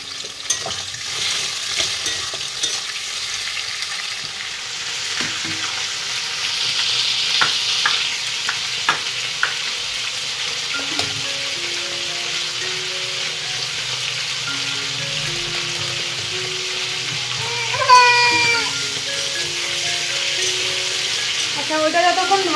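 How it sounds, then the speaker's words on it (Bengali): Chicken pieces for a curry fry over a high flame, giving a continuous close sizzle with scraping stirs and clinks, while a faint tonal melody drifts in the background. "মাংসটা একটু লাল লাল করে হাই ফ্লেমে ভাজবো"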